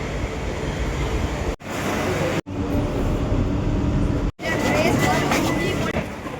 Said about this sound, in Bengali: এই দেখো এতক্ষণ পরে মেট্রো আসছে।